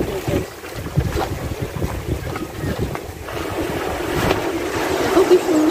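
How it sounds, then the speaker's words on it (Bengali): Sea waves rolling onto the beach at Digha, a broad wash of surf mixed with gusty wind buffeting the microphone, loud and continuous with faint voices underneath. "তোমরা সমুদ্রের ঢেউটাকে এনজয় করো"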